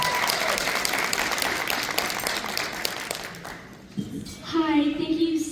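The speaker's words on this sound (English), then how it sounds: "Let's give her a round of applause." Audience applause for a featured student artist's presentation, steady clapping from a crowd that fades out, followed by a voice beginning to speak.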